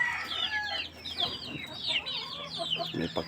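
Rhode Island chickens clucking and calling close by, a steady run of overlapping squawks and clucks with a faint low hum underneath, no talk.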